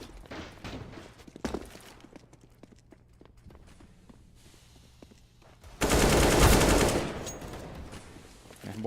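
Pistol fire from a Counter-Strike match on the Mirage map: scattered sharp gun reports and footsteps ring out through the first half, then a loud sustained burst of gunfire dominates near the end.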